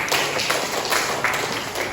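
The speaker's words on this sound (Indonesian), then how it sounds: "Oke, baik, tepuk tangan dulu." A classroom of students applauds during a university teaching-practice lesson, with close, brisk clapping from a small group that pulses in a few bursts for about two seconds.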